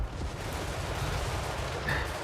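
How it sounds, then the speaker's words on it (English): Volleys of gunfire in the video game Total War Warhammer 3 make a dense, continuous low rumble of overlapping distant shots, steady and mid-level with no clear individual reports. "Their lord should go down to a hail of gunfire."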